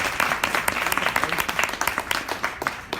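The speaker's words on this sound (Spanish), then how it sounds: "Un aplauso, por favor." Audience applause at a talk on philosophy and sport, many hands clapping close and lively in a steady burst for the whole stretch.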